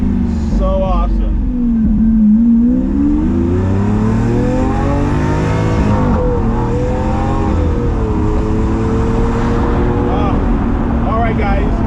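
Lamborghini Aventador engine revving while driving, a loud, close roar that rises and falls in pitch through repeated accelerations, sustained throughout with no break.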